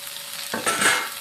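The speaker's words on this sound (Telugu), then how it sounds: "ఇవి 2 మినిట్స్ ఫ్రై అయిన తర్వాత టమాటా, పచ్చిమిర్చి, చింతపండు వేసుకుందాం ఫ్రెండ్స్." Tomato, green chili and tamarind tipped into a pan of frying ivy gourd, a steady oil sizzle under a spoon stirring; the hiss swells and grows louder as the wet ingredients hit the pan partway through.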